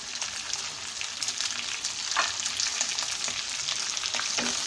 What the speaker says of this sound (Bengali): পেঁয়াজ কুচি, দিয়ে দিচ্ছি